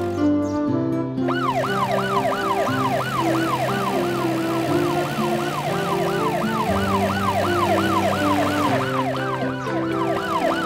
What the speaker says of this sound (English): The ambulance is coming out of the helper car's garage.